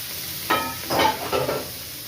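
Fish pieces fry lightly in hot oil for a sour mango curry, giving a soft steady sizzle with a few brief louder bursts as they are stirred, close by and without talk.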